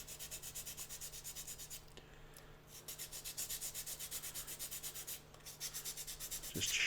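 Rhythmic back-and-forth rasping of a sanding stick on wood, shaping a bevel on a model aircraft, steady strokes repeating quickly with a brief pause partway through, close and quiet.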